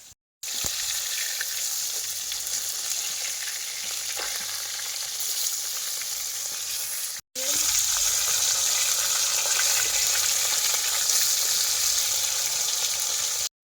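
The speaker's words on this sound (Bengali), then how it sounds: "মাছ ভাজা হয়ে গেছে মা তুলে নাও লাল লাল হয়ে গেছে" Fish frying in hot oil in a home kitchen in the Sundarbans, giving a steady, close, loud sizzle that runs almost unbroken, with one brief gap midway and no talk.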